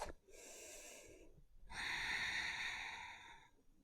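Deep breathing while holding a yoga plank: one long airy exhale, a pause, then a louder, longer breath, close and clear with no talking.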